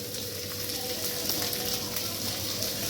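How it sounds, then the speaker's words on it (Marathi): Sweet corn kernels fry in a pan at home with a steady close sizzling hiss and occasional small pops, continuous throughout and alone without speech. "आता मी यामध्ये कॉर्न सोडणार आहे. छान असे कॉर्न परतून घ्यायचे आहे."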